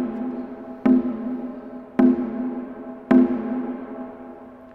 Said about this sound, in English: The kinkani is the baby drum, and it has the lightest voice, and it sounds like this.